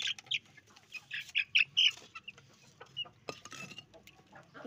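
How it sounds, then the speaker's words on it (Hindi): Chickens clucking and squawking in their coop at feeding time, a flurry of close, sharp calls early on, then scattered softer clucks and rustling, with no talk. "अब पानी के बाद हमने सब मुर्गियों को दाना डालना है।"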